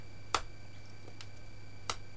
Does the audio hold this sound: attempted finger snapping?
yes